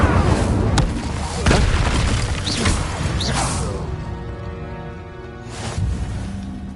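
Incendio fire spell cast in the video game Hogwarts Legacy, a loud whooshing burst of flame with booming impacts over dense game combat noise, fading into quieter ambience.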